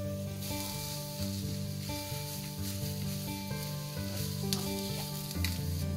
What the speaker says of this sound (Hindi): इसे हम अच्छे से मिक्स कर लेंगे और 1 मिनट और फ्राई होने देंगे।